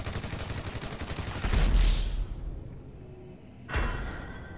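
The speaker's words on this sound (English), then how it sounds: "I want to shoot that red tank" Rapid gunfire in Grand Theft Auto V aimed at a red tank: a burst of quick repeated shots that swells into a heavy blast, fades, then a sharp second impact rings out near the end.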